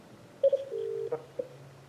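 Short keypad dialing tones from an IP PBX desk phone, a few quick beeps followed by a longer tone and a faint hum underneath, quiet and close.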